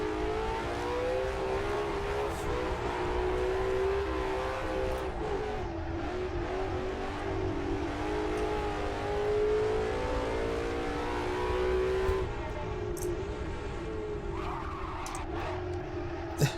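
Ford GT350R Mustang with a small-block V8 revving toward 8,000 RPM in the Assetto Corsa racing game, a loud, sustained engine drone whose pitch climbs and falls steadily for the whole stretch, with no talk.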